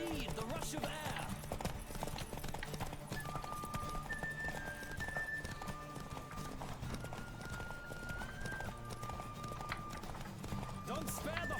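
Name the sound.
horse galloping in video game The Witcher 3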